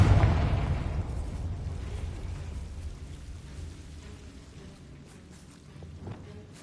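A Confringo spell explodes in Hogwarts Legacy, starting with a loud, close blast and settling into a long rumbling, crackling decay that fades over several seconds, with a faint secondary thump near the end.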